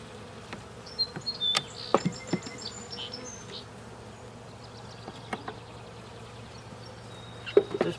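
Honeybees buzz steadily in an opened hive during a July inspection of a split, a continuous mid-level drone with occasional louder passes of individual bees near the listener.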